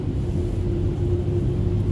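Inside an Esso car wash in Hespeler, Ontario, a motor gives off a deep, loud, continuous rumble with a shaking, throbbing low drone that holds steady throughout, close by and with no voices.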